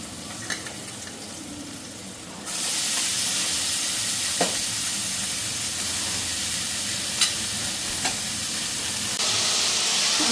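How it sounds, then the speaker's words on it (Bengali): Onion frying in a pan with turmeric and green chili: a steady, loud sizzle that swells after a couple of seconds, with a few soft clicks of stirring and no talking. "হলুদ দিছি, কাঁচা লঙ্কা, পেঁয়াজটা ফ্রাই করছি"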